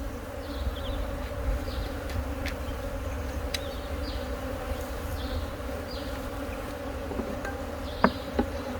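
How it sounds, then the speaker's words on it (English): Honeybees buzz in a dense, continuous drone during a hive removal thick with queen cells, with a few closer passes and faint knocks toward the end, no voices. "Come tell me there's a few bees here"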